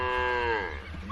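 A Bahima cow of the Ankole region gives one long, loud, close moo that slowly falls in pitch and fades, heard alone with no talk over it.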